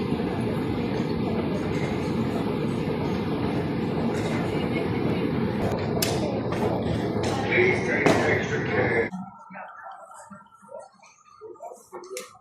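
A London Elizabeth line underground train gives a loud, steady rumble deep below ground. It carries on for about nine seconds, then cuts away to quieter station ambience with scattered light clatter.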